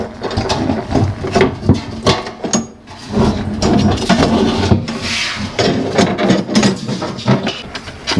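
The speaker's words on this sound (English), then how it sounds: "So give it a bit of a wiggle" A Classic Mini long range fuel tank is wiggled out of the chassis, giving close, loud metallic rattles, knocks and scraping in an uneven, jerky rhythm, with no voices.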